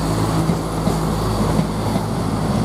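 East Midlands Railway train departing Grantham station, a continuous loud rumble with a low engine hum and steady rolling noise close by, no voices.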